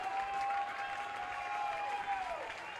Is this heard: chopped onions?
no